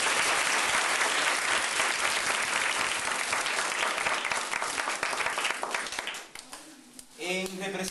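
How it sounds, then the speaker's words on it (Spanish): An audience at a book-donation ceremony in Ranchete gives loud, sustained applause, dense clapping that fades after about six seconds as a voice begins speaking over the tail. "pido también un fuerte aplauso"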